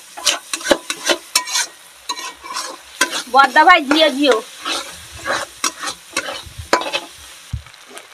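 Egg sizzles and spatters in a frying pan for an egg tadka, with steady crackling and occasional stirring scrapes throughout. A voice speaks briefly in the middle.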